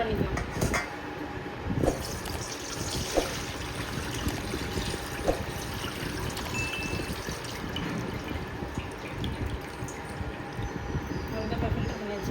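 Water pours and trickles as it is strained through a filter for village-style rasam. A steady, gentle splashing runs for several seconds with a few sharper knocks and someone talking over it.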